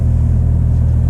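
The engine of a 2 RS sports car on the drive to mainland Britain's northernmost point gives a brief, loud, steady low rumble.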